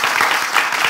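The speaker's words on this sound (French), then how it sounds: "Applaudissez pour le succès." A studio audience claps in a brief, steady burst of applause, close and fairly loud, with no talk over it.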